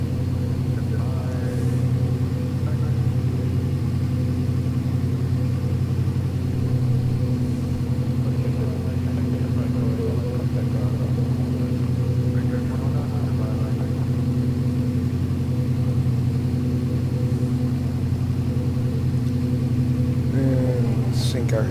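A propeller aircraft engine in the X-Plane 11 flight simulator drones steadily and evenly at a constant pitch throughout, with a pilot talking over it.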